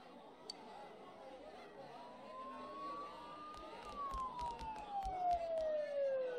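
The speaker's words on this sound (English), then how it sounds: "Don't those sirens sound really close?" A siren in the video game Persona 4 Golden wails with rising and falling pitch, growing louder and closer over a murky background with faint clicks and a low rumble.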